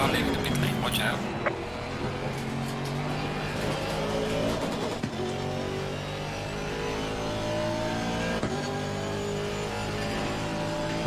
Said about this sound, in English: There's a car leaving the pit lane, watch out.